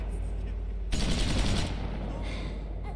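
A burst of rapid gunfire rattles out in The Walking Dead video game, loud and dense for under a second amid a steady background of ambient game noise.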